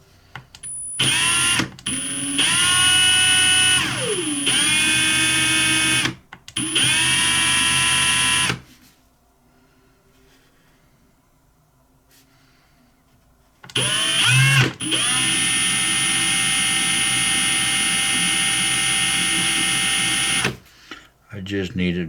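A drill bores into a gas lighter with a whining, buzzing motor in several bursts. Its pitch sags under load between short stops, and a long quiet gap falls in the middle before a final sustained run.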